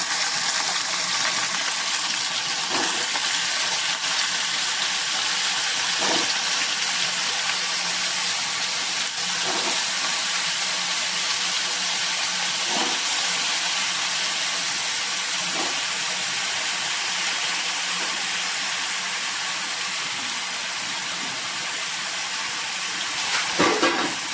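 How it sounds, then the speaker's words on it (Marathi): Sweet potato slices fry in hot ghee with a steady, dense sizzling hiss that holds level throughout, with faint clicks of the pieces being placed. "तूप आता बऱ्यापैकी तापलंय आता मी या रताळ्याच्या ज्या फोडी आहेत तर गॅस बारीक करते आणि या रताळ्याच्या फोडी आता या पिठावरती घालते"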